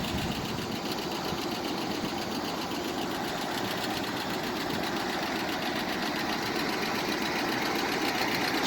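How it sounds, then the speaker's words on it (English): The 1972 pushrod V8 in a 1968 Jeep Wagoneer idles with a steady, close, even rumble that carries on unbroken, with no one speaking over it. "this old pushrod 60s V8, 70s actually, 72 V8, it just rumbles"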